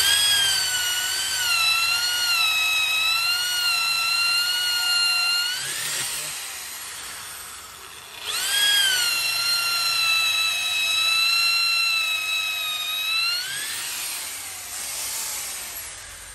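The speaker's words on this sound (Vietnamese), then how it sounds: "Rồi, khoan gỗ này." A Dekton 13 mm electric drill bores into wood with a loud, steady high-pitched whine. The motor pitch dips and recovers several times as the bit loads and frees, and the sound runs continuously with no talk.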